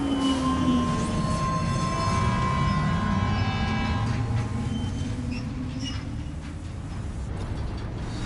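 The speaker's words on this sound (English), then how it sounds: "we get on the monorail and we dispatch" A monorail in the video game Death Stranding 2 pulls away with mechanical whirring, ratcheting clicks and rising tonal whines that fade into a steady rolling rumble.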